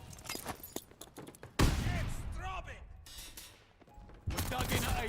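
Gunfire crackles in Call of Duty: Vanguard multiplayer, with a run of rapid sharp shots, then a louder burst and more shots later, close and mixed with game noise while people talk.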